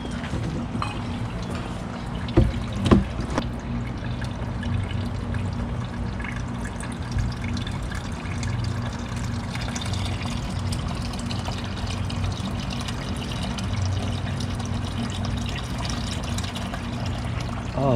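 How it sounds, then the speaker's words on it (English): Fresh water poured into a Honda Civic radiator makes a steady, continuous splashing and gurgling wash that runs for the full stretch at moderate level, with a couple of brief knocks early on. "now I'm going to pour some fresh water down it."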